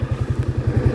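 A motorcycle arrives at a house, its engine close by with a rapid, regular thumping putter over about a second.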